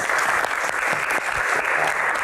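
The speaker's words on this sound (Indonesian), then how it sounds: "Tepuk tangan, kita sambut Pak Ade" Lively, continuous audience applause greets guest Pak Ade at a Q&A event about the Hajj, a thick wash of clapping with no pause.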